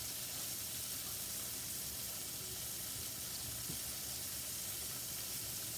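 Cubed venison sizzles and fries steadily in a hot pan, a continuous close, even hiss with faint crackles and no talking over it.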